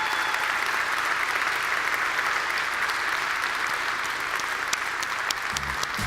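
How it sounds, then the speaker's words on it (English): Sustained, thick applause from a large conference audience for the Looker team, loud and even throughout with no gaps, individual claps blurred into a continuous roar. "give them a big round of applause"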